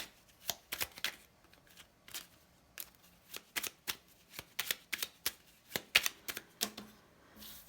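Tarot and oracle cards being shuffled by hand: a quiet, irregular series of soft, crisp card slaps and riffles, close and alone, repeating for several seconds.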